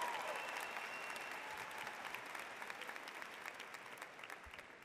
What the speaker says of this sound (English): Let's give Andy Dekaney, the late Andy Dekaney, and Mrs. Dekaney a very rousing applause